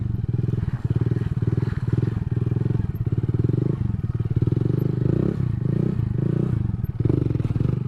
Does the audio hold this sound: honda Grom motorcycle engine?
yes